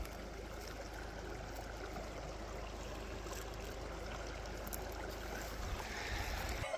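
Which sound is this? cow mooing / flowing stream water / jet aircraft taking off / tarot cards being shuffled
flowing stream water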